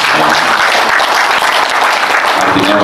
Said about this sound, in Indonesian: ini saya tepuk tangan dulu buat panjenengan semua